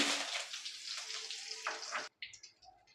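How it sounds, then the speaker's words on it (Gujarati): Mustard seeds, cumin and ten or twelve curry leaves hit about three large spoons of hot oil for a Gujarati tempering, giving a loud, dense sizzle that cuts off sharply, followed by quieter crackles. "પહેલાં વઘાર કરી લઈશું"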